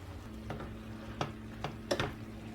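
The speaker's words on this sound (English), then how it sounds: "I'm going to take this lid off, give this a stir." Fried cabbage gets stirred in a pot: a few quick scraping strokes of a spoon over low bubbling and faint sizzle, close and fairly quiet.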